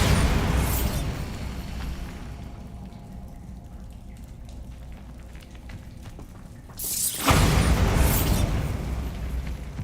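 Bombarda spell explosions in Hogwarts Legacy, a loud roaring blast that trails off into quieter rumbling debris, then a second heavy burst erupting near the end, with no talking.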